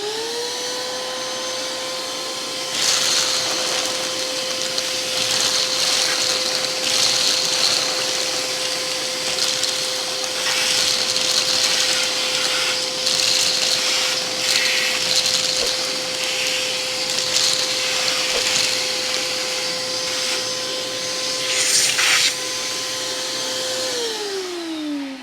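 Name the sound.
wet/dry shop vacuum sucking up dog food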